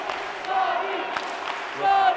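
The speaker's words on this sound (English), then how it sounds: "And the crowd loving it." A wrestling crowd cheering for hometown favorite Sonny Kiss, a broad roar of voices that swells near the end, with a voice talking over it.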